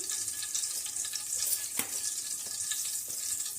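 Whole spices, cardamom pods and cinnamon, frying in a pan with a steady close sizzle and a few light crackles and stirring scrapes, no voices.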